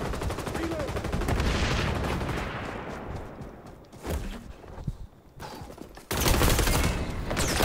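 Rapid bursts of gunfire in the shooter XDefiant, loud and close at first, then thinning into scattered shots and footsteps before a heavy burst of fire returns at the end.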